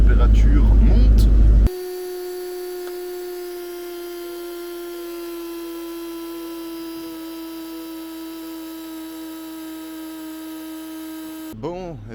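A Honda Civic EG4 with a D15B2 engine and automatic gearbox idles while its radiator fan runs at full speed, producing a steady, even humming drone. A voice talks briefly before and after it.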